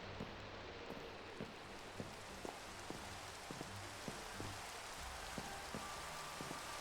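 Rain falls steadily in a Minecraft modpack game world, a soft continuous hiss with faint periodic droplet ticks, quiet and unbroken, no talking.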